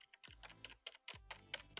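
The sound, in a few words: typing on Razer Cynosa Chroma keyboard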